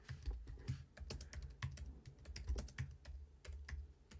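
Rapid, uneven typing on a computer keyboard, close and distinct, with bursts of key clicks and brief pauses and a soft thumping underneath, no voices.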